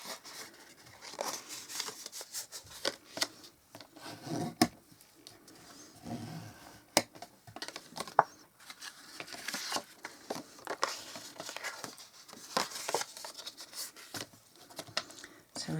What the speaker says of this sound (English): So we'll just give them a quick burnish.